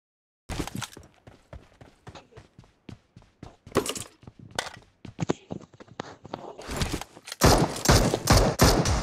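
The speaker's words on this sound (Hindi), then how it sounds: "क्या पूरे गेम में सिर्फ शॉटगन अबे यार देख फिर शॉटगन होता" Shotgun fire in a squad-battle video game: a string of sharp blasts, fast at first and then spaced out, with footsteps and thuds between them and a denser, louder burst of fire near the end.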